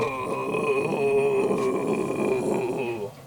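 A person imitates a camel with a long, throaty, groaning grunt, sustained for a few seconds and fading at the end.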